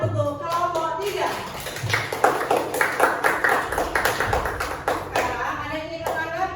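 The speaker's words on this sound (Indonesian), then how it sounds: "Oke, kita kasih tepuk tangan untuk kelompok 3." Classroom students clap for a presenting group, a brisk mix of many hands with quick uneven taps building then continuing steadily, fairly close, with a voice briefly heard at the start.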